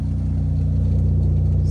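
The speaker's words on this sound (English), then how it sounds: "It's got an upgraded exhaust system." A 2013 Ford Focus ST hatchback with a turbocharged engine and upgraded exhaust idles close by, giving a steady, deep rumbling drone that holds even throughout.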